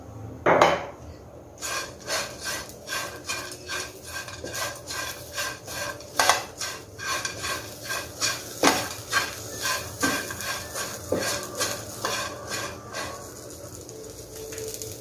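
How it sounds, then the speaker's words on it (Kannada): A utensil scrapes and knocks rhythmically against a pan while mixing a capsicum curry with chilli powder, coriander leaves and salt, giving close, regular clattering strokes with a few sharper knocks. "ಸರಿಯಾಗಿ ಇದನ್ನೆಲ್ಲ ಮಿಕ್ಸ್ ಮಾಡ್ಕೊಳ್ತೀನಿ"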